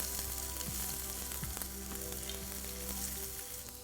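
Chopped garlic and ginger frying in a pan, a dense, steady sizzle with occasional scraping from stirring, close up and without voices.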